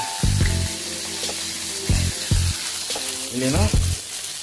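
Fish sizzles and crackles loudly in hot oil, a continuous close frying hiss with a few louder bursts, while someone speaks over it in short phrases.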